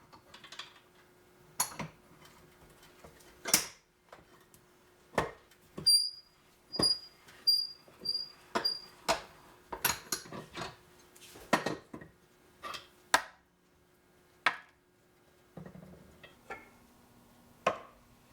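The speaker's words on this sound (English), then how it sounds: "using the bench vise, I'm just going to press the inner sleeve out through the bushing and into the bigger" Bench vise pressing the inner sleeve out of a polyurethane suspension bushing into a larger socket, heard as a series of sharp metallic clicks and creaks at irregular intervals, close and fairly quiet.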